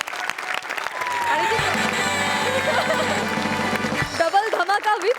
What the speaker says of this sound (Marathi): नम्रतासाठी एकदा जोरदार टाळ्या वाजायला पाहिजे.